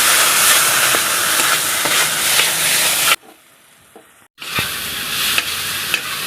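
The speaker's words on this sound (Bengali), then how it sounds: "আমি টমেটোর সাথে এটাকে মিশিয়ে নেব" Chilli, cumin and coriander powder being stirred into tomato in a hot pan, a loud sizzle with scraping stirs that stops for about a second, then resumes.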